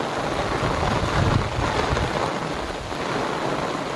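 A heavy downpour hammers the open countryside during a storm, a loud, unbroken roar of rain with no voices.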